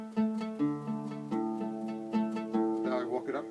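Oud strings are plucked one by one during tuning, each note ringing close and clear as the pitch steps upward, with a few quicker plucks near the end and no talking.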